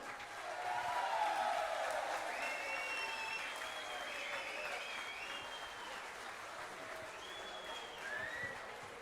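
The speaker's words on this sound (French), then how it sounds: "Vous pouvez les applaudir, c'est des champions." An audience at a 50th anniversary celebration of the Domaine Le Val de l'Aisne applauds after speeches, a steady fairly distant wash of clapping with a few faint voices and whistles over it.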